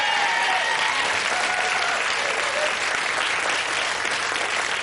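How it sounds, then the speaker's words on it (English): A studio audience at the Blockbusters quiz show applauds contestant Richard, with dense, steady clapping filling the room at an even level throughout. "Give a big round of applause to Richard"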